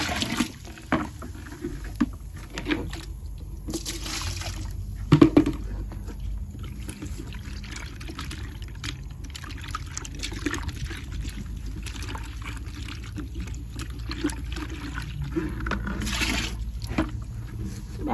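Mixed liquid is poured from a container onto chopped pineapple peels to make bio-fertilizer, giving a steady, close splashing and trickling that runs on at an even level with no talking.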